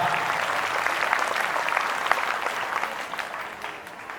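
Congregation in a church applauding at a diamond jubilee celebration, steady dense clapping from many hands throughout, loud and sustained, easing slightly toward the end.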